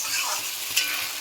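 Spices sautéing in oil for Bengali pachan, a soft continuous hiss of frying with a brief stir or scrape near the end.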